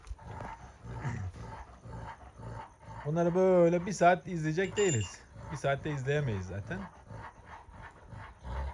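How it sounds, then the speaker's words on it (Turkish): Two leader Kangal dogs fight over a female, low rumbling growls and snarls rising to a loud, throaty peak midway, close by, while someone talks over them. "İkisi de lider ruhlu köpekler bırakmazlar dişinin başını."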